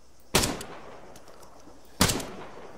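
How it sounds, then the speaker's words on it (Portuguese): Two loud single gunshots from the military shooter game Arma 3, sharp cracks with a short echoing tail, spaced under two seconds apart over quiet background. "vou meter bala neles"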